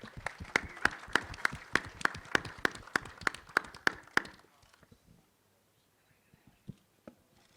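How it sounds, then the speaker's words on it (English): Audience applause at a film trailer launch event, sharp distinct claps in a brisk steady rhythm for about four seconds, then thinning to scattered faint claps and near silence. "A big round of applause."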